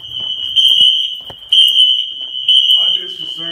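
Wheelock fire alarm audible-visual horns on a Siemens MXL system blare a loud, piercing steady tone in repeated pulses, with people talking nearby between and under the blasts.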